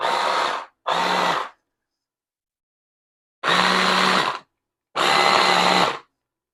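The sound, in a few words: machine mincing meat for goetta sausage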